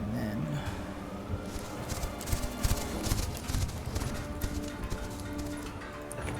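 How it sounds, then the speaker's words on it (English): Horse hooves clip-clop in a rapid, uneven rhythm at moderate distance, as in a tabletop role-playing game sound effect of a horse galloping away in terror, with a faint whinny and background noise. "That noise of one of our horses galloping away in terror"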